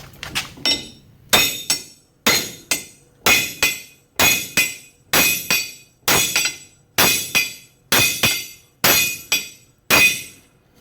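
Hammer blows drive a wheel stud into a 1966 Ford Bronco rear axle flange held in a vise, about a dozen loud, ringing metallic strikes at an even, steady pace, each decaying before the next.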